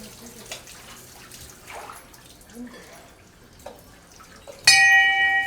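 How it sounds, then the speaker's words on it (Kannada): Water is poured over a person's back during a holy bath in Kashi Bhagirathi tirtha water at the Kadri Manjunatha temple: a faint, steady wash of splashing runs throughout, and a bright bell-like ring breaks in loudly near the end. "ಬೆನ್ನ ಮೇಲೆಲ್ಲ ಬರಬೇಕಲ್ವಾ ನೀರು."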